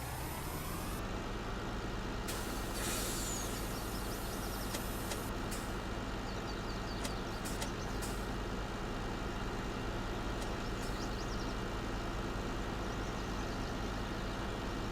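A farm vehicle engine in Farming Simulator 19 drones steadily at low pitch while it strains and rocks back, with a burst of hiss early on and a few faint clicks and knocks over the constant rumble.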